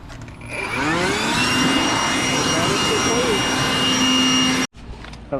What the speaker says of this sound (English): I'm gonna use the blower.